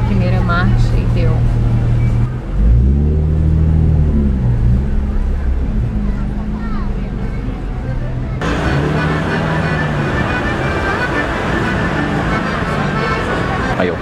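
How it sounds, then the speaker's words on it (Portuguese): A Nissan 370Z sports car engine revs up in first gear, a loud, rough rising drone that steps in pitch, then a second burst of revving later, with people talking over it inside the car. "Eu queria poder acelerar e não tem espaço. Só na primeira marcha e deu."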